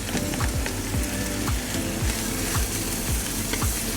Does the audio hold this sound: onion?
yes